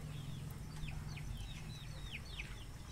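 Chickens on a chicken farm making soft, repeated clucks and short downward calls over a steady background hum, fairly distant and quiet.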